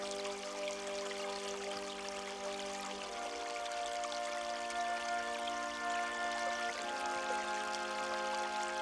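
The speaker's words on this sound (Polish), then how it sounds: "Zobaczcie jak fajnie woda szumi" Steady rushing of stream water, a continuous broadband wash with no voices, holding even and moderately loud throughout.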